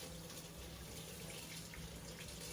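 Water runs from a sink faucet to rinse a Yeezy 350 sneaker, making a steady, faint, even rush with no talking.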